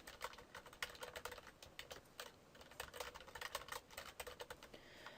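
Rapid clicking keystrokes on a computer keyboard, in close, quiet bursts of typing with brief pauses, and no voices.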